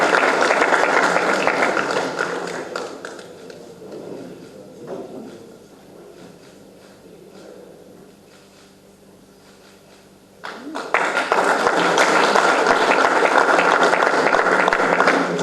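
Applause at an award ceremony honouring Salvo D'Acquisto of the Carabinieri, as a plaque is presented by the Questore, heavy crowd clapping that fades to quiet talk in the middle and then bursts back loudly and continuously.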